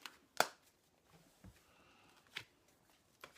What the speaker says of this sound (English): So we're going to shuffle the cards.